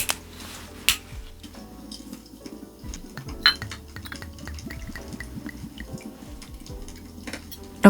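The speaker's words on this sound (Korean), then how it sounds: "럭키님 그럼 짠!" Glasses clink together in a toast during a solo drinking chat, with several sharp light chinks and small clatters scattered across a quiet room, no talking heard.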